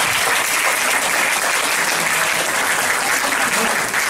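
Seminar audience applauding after a talk at an academic event, a dense, loud, even burst of clapping with no voices.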